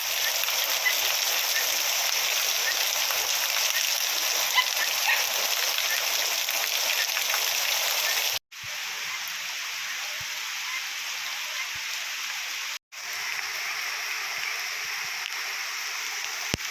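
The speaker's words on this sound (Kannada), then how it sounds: "ನೆಕ್ಸ್ಟ್ ಡೇ ಫಸ್ಟ್ ಮಳೆ ಬಂತು" Steady rain falls outdoors at a grandmother's village home, a dense, even hiss that fills the whole stretch, broken by two abrupt short cuts, with no voices over it.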